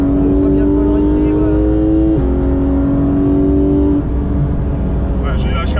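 A race car holds fourth gear on light throttle around a track, its engine making a loud, steady drone that shifts pitch slightly, with people talking in French over it.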